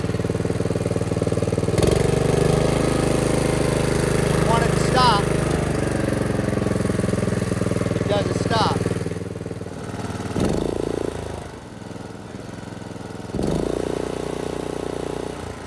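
A Dr. Power brush mower engine runs at a steady, loud, close drone, dips briefly near the end as it is choked off, then picks back up.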